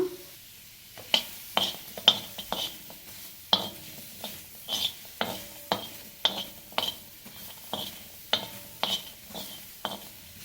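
Onion and garlic fry in a pan, heard mostly as a spatula striking and scraping the metal in a steady series of sharp clinks over a faint sizzle, close by with no talk.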